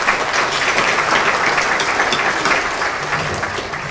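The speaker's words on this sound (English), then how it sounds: "Give yourself a round of applause." Steady, dense audience applause fills a Hall of Fame induction ceremony hall, a continuous wash of many hands clapping at moderate volume without a break.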